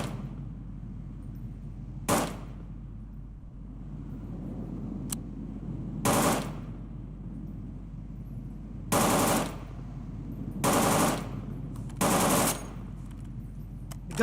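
Short bursts of gunfire in the Garry's Mod video game crack out five or six times at irregular intervals over a low steady hum, some single shots and some rapid strings, with quiet gaps between.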